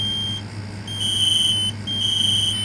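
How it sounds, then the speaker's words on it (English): A Kidde KN-COPE-IC combination smoke and carbon monoxide alarm sounds under test, giving loud, close, piercing electronic beeps in a steady repeating pattern over a low background hum, with no voices. "First alarm we're going to test is the Kidde KN-COPE-IC."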